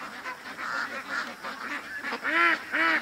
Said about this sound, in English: he's got the ducks, they're all coming home now